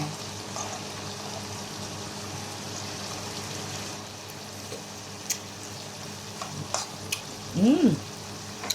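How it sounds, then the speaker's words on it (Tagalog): Water spinach adobo simmering in a pan, a steady soft sizzle and bubbling throughout, with a few small clicks and a brief utensil scrape near the end. "simmer natin ito ng about 1 minute na lang kasi madali lang to guys lutuin"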